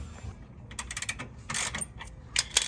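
A ratchet loosening the bolt that holds the horn on an Acura RSX, heard as quiet bursts of rapid clicking, close up, with pauses between strokes.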